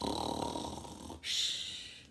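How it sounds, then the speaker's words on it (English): A student snores during a school safety talk. One drawn-out rasping snore is followed by a hissy intake of breath. It is soft and heard alone. "Sometimes there was snoring."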